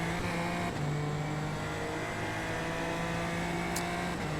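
A Super Formula Lights race car in iRacing at Imola gives a loud, sustained engine drone at steady high revs through a corner, with one brief pitch dip early on. No one speaks.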